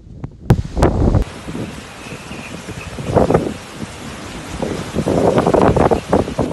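Storm Celia's wind gusts roar across the beach of Las Teresitas in Tenerife, loud surging blasts buffeting the microphone in waves, with rustling and surf-like noise and a few sharp knocks early on.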